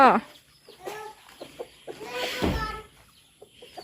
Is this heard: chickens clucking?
yes